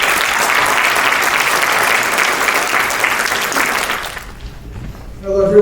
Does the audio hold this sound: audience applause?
yes